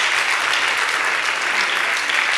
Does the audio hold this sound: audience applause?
yes